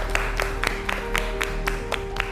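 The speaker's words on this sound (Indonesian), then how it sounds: "Oke, tepuk tangan buat Mbak Asna." Sparse applause in a classroom chemistry lesson: a few evenly spaced, crisp claps, roughly four per second, ring out over a steady electrical hum without any talking.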